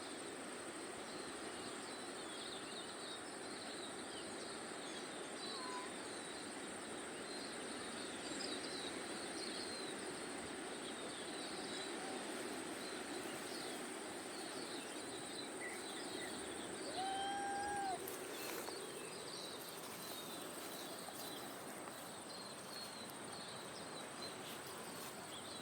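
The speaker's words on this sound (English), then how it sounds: "He's hunting birds. Listen, I'll stop talking so you can hear them." Birds call faintly in an orchard, with a few thin whistles rising out of a dense, steady wash of insect or cricket buzz that fills the whole stretch.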